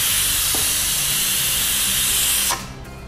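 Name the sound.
pressure cooker whistle releasing steam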